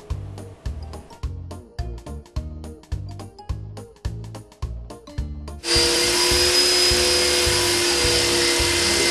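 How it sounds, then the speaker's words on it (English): An electric RC helicopter on a training test stand spins up after a stretch of rhythmic knocking, settling into a loud, steady whine and whir that holds to the end. "Let's go ahead and hook the helicopter to it and see what happens."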